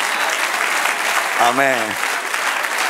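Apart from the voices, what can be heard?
church congregation applause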